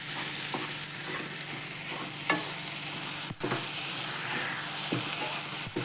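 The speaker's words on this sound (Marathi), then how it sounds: "आणि हे जे कुरमुरे आपण धुवून घेतलेत ना ते घालून घ्यायचे त्यात. परतून घ्यायचं मस्त." Washed, softened puffed rice is sautéed in a pan, a soft steady sizzle with scattered sharp spatula scrapes and taps against the metal, close and fairly quiet, no speech.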